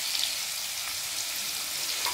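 Salted kohlrabi frying in a pan gives a soft, steady sizzle with faint crackles throughout, fairly quiet and close, with no voices.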